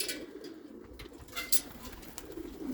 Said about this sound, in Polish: Mało spotykany ptak gołąbki w, w, w okresie lęgowym latają sobie wszystkie razem.